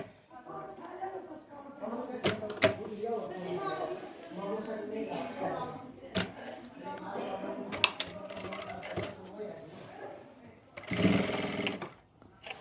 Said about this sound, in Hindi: यहाँ से हम सिलाई लगाना स्टार्ट करेंगे